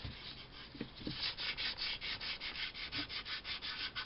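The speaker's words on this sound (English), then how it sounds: "I'm going to give that a light rub as well" Light rubbing along the edges of a handmade trash-to-treasure craft piece, a steady run of soft, scratchy strokes repeating in an even rhythm, close and fairly quiet, with no talking.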